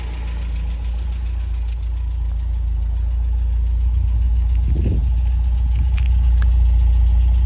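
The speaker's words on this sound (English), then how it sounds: "choke fully off now. Really nice idle." A 1964 MGB's engine idles steadily with the choke fully off, a smooth, even low rumble running alone throughout, close by, with a slight extra mechanical clatter near the middle.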